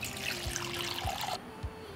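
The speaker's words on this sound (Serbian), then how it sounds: "Nalit ću s toplom vodom do visine poklopca." Warm water pours into a pot holding jars set on a cloth, a brief, faint splashing stream that stops abruptly near the end, with a couple of soft low knocks.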